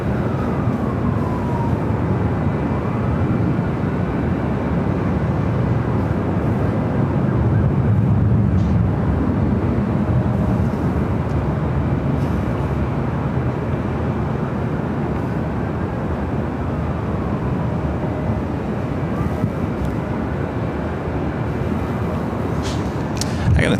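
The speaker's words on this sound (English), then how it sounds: "Spotted Owl, coming in from Sacramento in an A321neo." An Airbus A321neo arrives at Los Angeles LAX airport, its steady broadband roar and low rumble holding loud and continuous throughout, with a faint whining tone sliding across the background.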